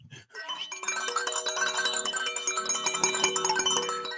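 Bells ring in a busy, overlapping peal with bright repeated chimes, fairly close and continuous for a few seconds after a brief quiet start.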